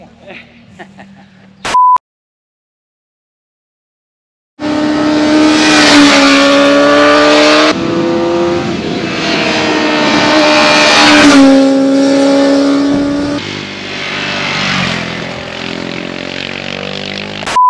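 Engines roar close by as motorcycles pass, with rising and falling revs over several seconds, after a short burst of voices and a beep.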